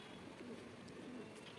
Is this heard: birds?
yes